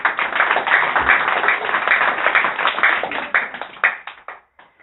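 A church congregation claps together at a Sunday service, dense rhythmic hand claps filling the room for several seconds before thinning out to a few scattered claps and stopping.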